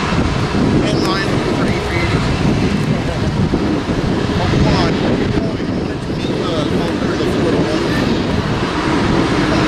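British Airways airliner passing at LAX, a loud, continuous jet roar with wind buffeting the microphone throughout.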